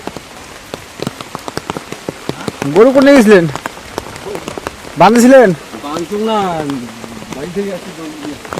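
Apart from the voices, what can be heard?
rain falling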